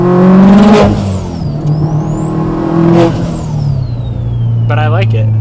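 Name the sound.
800whp Subaru STI engine revving with T51R mod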